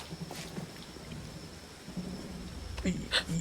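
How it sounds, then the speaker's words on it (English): Steady rain pours in a video game, The Quarry, a continuous broad hiss with a few louder bursts of splashing or rumble toward the end. "it's raining now"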